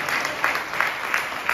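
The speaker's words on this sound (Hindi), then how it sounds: "Can we clap for Him?" A church congregation claps together steadily throughout, a dense crowd applause with regular rhythmic peaks, fairly loud and without speech over it.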